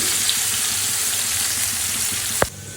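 Onion added to fish frying in a pan makes a loud, steady sizzle that runs throughout, then cuts off sharply near the end after a brief clatter.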